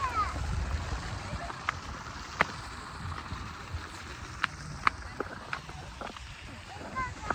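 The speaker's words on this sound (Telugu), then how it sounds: "వాటర్ ఫాల్స్‌వి గానీ, ఆ సౌండ్స్ అనేవి చాలా బావున్నాయి." Steady broadband rush of a natural waterfall in Bali, continuous and fairly close, with scattered sharp clicks and knocks over the flowing water.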